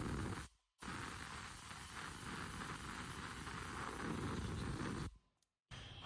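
Compressed air blowing out a transfer case, a loud continuous hissing rush in two long bursts with short silent gaps between them, close up.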